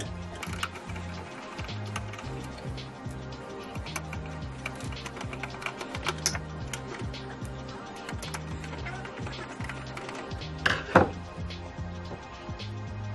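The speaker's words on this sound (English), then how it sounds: "to remove the power supply, there are 4 screws on the back side. Get a Phillips screwdriver." A Phillips screwdriver turns out the four power supply screws on the back of a computer case, making close, steady runs of small repeated clicks and ticks with a brief louder clatter near the end.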